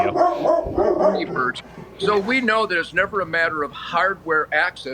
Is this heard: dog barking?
yes